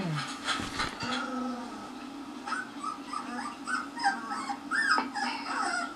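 Puppies whimper and squeak while playing, with a run of high, thin, wavering cries close by that come in quick bursts and overlap one another, and no one talks.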